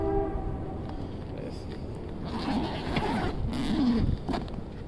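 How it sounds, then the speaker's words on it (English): A train rumbles past nearby and sounds a horn in a few short blasts toward the end, with a voice talking quietly under the noise. "Guys, the train is going nuts."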